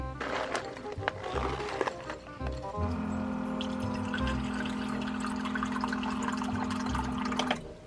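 Water pours steadily into a cat's water bowl for several seconds, a continuous trickling fill close by, with light clattering and handling sounds before it starts.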